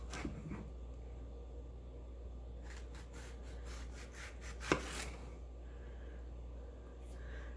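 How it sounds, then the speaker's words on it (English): A knife slicing green tomatoes into half-inch rounds on a board, quiet rubbing and cutting strokes in a cluster, then a single sharper chop, over a steady low hum. "So you want to cut them a 1/2 inch thick."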